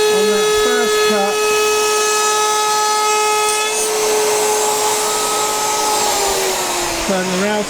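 Handheld router cutting a first pass through wood for a desk tidy, a loud sustained motor whine with a dust extractor running, a few brief pitch dips at the start and end as the cut begins and finishes.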